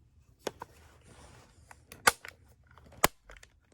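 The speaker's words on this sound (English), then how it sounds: "I'll do a little dry fire here." Dry firing a JW-2000 coach gun, an old double barrel shotgun: a few sharp mechanical clicks and snaps, two of them crisp and prominent, separated by quiet handling noise at close range.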